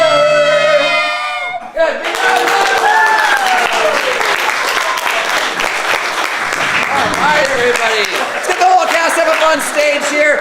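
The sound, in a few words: audience applause at an improv comedy show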